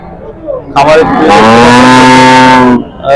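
A cow gives a loud, close, drawn-out moo lasting about two seconds at a large cattle market in Bhangura, Pabna, rising and sustained before cutting off, with market bustle underneath.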